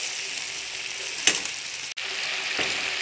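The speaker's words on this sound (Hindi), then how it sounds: "इस मसाले को भी इसी में ऐड कर देंगे और इसको भी फ्राई करेंगे इसी में" Masala for baingan bharta frying in a pan, a steady close sizzle with a couple of brief stirring scrapes.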